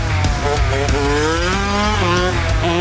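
A small motocross motorcycle revs hard for a wheelie, its engine note rising and falling in loud, continuous close-up bursts.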